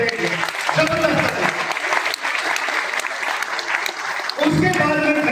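Audience applause for an MD and CEO at an AWPL leadership event in Ranchi: a steady wash of clapping across the whole stretch, with a voice talking over it at the start and again at the end.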